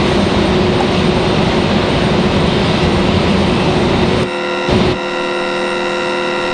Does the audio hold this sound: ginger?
no